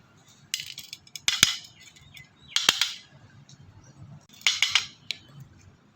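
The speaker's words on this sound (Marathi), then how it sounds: "सगळ्यात पहिला उपाय म्हणजे जेवढे दिसतात तेवढे स्नेल सगळे असे चमच्याने काढून घ्यायचेत" A spoon scrapes snails out of a plant pot, producing three short, close, gritty scraping bursts with brief clinks, separated by quiet pauses.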